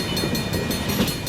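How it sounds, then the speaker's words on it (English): Freight train ELS 502/1221 rolls south past on the rails, a dense steady rumble and roar with faint rhythmic wheel clicks, close and continuous. "And I see the end of the train, I would think, with a green center beam car"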